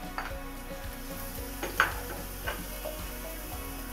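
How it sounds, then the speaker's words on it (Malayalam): Garlic hitting hot oil in a pan for protein cauliflower fried rice gives a steady close sizzle, broken by a few light clinks of stirring; no one speaks. "ഓയിൽ നല്ലോണം ചൂടായി വരുമ്പോഴേക്കും നമ്മുടെ ഗാർലിക് ആഡ് ചെയ്ത് കൊടുക്കാം"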